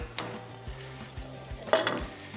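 Egg frying in a pan, a steady close sizzle with a few soft scraping and clinking taps of a utensil as it is flipped, no talking.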